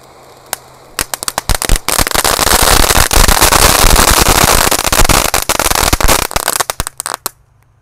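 A jumbo firework fountain lit on a festive holiday night crackles in dense, rapid pops and sizzles, building to a loud sustained roar of crackling for several seconds before sputtering out.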